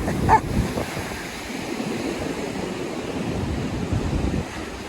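Ocean surf on the beach at Hatteras, a soft, diffuse roar of breaking waves mixed with wind buffeting the microphone, fairly faint and continuous, with one brief sharper knock near the start.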